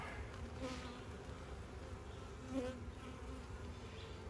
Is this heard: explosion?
no